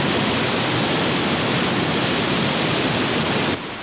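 Steady, loud broadband rush of a waterfall, close and unbroken, with no voices over it until it drops slightly near the end.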